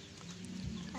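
Farm chickens cluck softly at close range, a brief low murmur of fowl with faint background noise and no talk.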